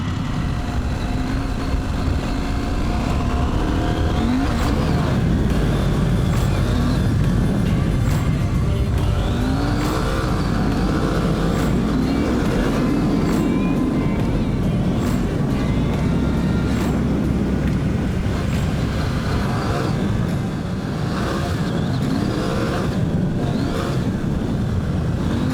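A KTM 790 Adventure R motorcycle on Dunlop Trailmax tires rides over fast, flowing gravel, its engine droning and rising and falling in pitch through changing revs, mixed with steady wind and road rumble throughout.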